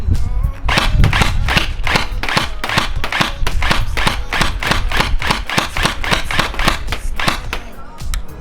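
A LeHui AUG gel blaster toy gun fires outdoors in a rapid, steady string of sharp snapping shots, loud and close, with about two dozen evenly spaced pops in a tight rhythm.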